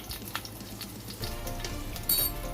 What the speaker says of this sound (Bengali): আমি চিকেনগুলো ফ্রাই করে তুলে নিয়ে এবার একে একে তেলের মধ্যে 1 চামচ রসুন কুচি অ্যাড করে দিলাম